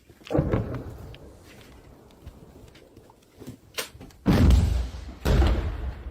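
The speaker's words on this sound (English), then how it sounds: "See another explosion in the distance." Distant explosions in a war zone in Ukraine land as deep booming thuds, a few muffled blasts spaced over several seconds, the last two heavier and broader, with quiet ambient noise between.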